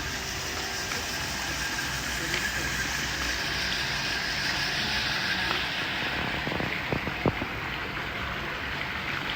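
A waterfall roars continuously, a constant broadband hiss of rushing water with a few faint clicks near the end.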